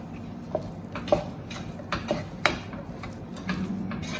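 Tamarind rice being stirred with sauce and masala, a series of soft scraping and clinking knocks of a spoon against a vessel at an irregular pace, fairly quiet and close.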